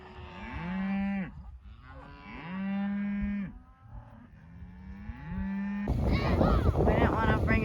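Heifers moo in a pasture, two long drawn-out lows with a shorter one between, followed by wind buffeting the microphone.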